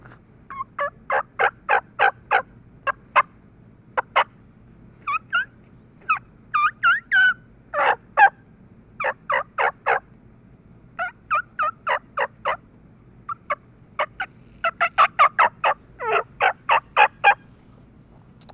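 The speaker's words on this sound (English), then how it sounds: "There's a mouth call." Turkey mouth call fitted with bat wing clear reeds, blown in a long series of sharp yelps and clucks in irregular bursts, loud and close, with no talking over it.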